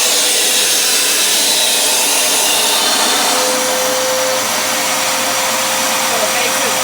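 A Vitamix blender running loud and steady, with a Hushpad sound reducer placed over it and lifted off, the broadband roar dipping slightly partway through.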